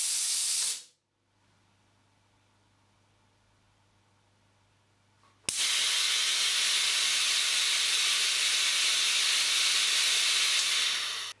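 A pneumatic cylinder with speed-control valves vents compressed air, its return stroke slowed down. A loud close hiss cuts off sharply, a low hum fills a quiet gap, then another strong steady hiss bursts in and holds.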